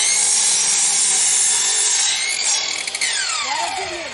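A jigsaw saws steadily through a board for several seconds, loud and close, then the blade slows and winds down as the cut ends.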